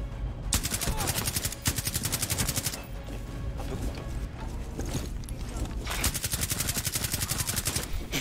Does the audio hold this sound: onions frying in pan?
no